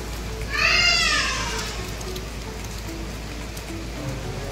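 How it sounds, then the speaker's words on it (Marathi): Heavy rain pours down in a steady, even wash of noise. A brief high-pitched cry rises over it early on, with children playing faintly in the background. "जोरात पाऊस आला, सारखंच येते जाते हे पाऊस."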